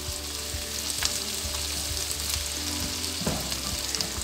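Onions fry in a pan for a spicy bhindi (okra) dish, a steady close sizzle running throughout with a few soft stirring knocks and scrapes, and no voices.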